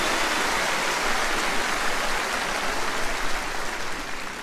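A large arena audience at a concert in São Paulo applauds tenors about to sing Nessun Dorma, a broad, hissing wash of thousands of hands clapping at once, steady and loud throughout.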